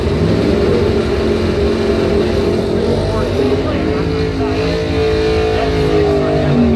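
Drag racing launch with a 1966 Plymouth at a bracket points event, loud sustained engine roar filling the whole stretch, steady and close with no break.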